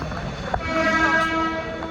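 A train rumbles steadily nearby with a constant mechanical drone and faint rail noise, holding loud throughout the short stretch.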